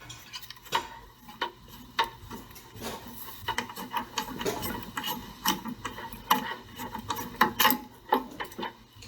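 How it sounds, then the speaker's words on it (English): Channel lock pliers grip and work a hose off a water heater's service valve, giving irregular clicks, creaks and rubbing scrapes at close range with intermittent louder snaps. "Take our channel lock pliers. Looks like we can remove this hose."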